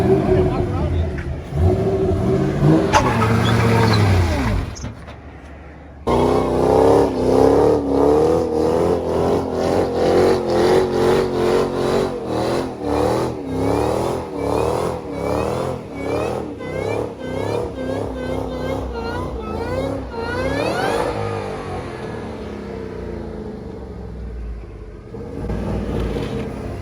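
A Ford Shelby GT500 does a big burnout, its engine revving hard in repeated surging pulses at close range. It cuts out briefly near the start, then roars steadily again while voices shout over it.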